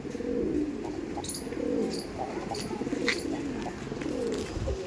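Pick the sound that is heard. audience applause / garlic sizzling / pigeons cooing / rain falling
pigeons cooing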